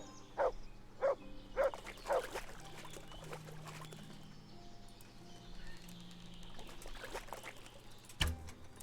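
A dog barking in Kingdom Come: Deliverance, four quick evenly spaced barks at the start, then quiet outdoor ambience with a sharp thump near the end.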